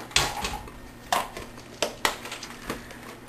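A cup of mixed nuts tumbles into a bowl, giving several sharp clattering rattles spaced about a second apart, close and fairly loud with a quiet room between them.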